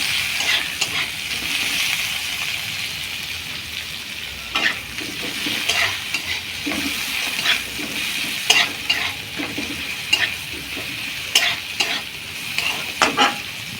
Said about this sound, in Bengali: পেঁয়াজটাকে প্রায় লাল লাল করে ভেজে নেব।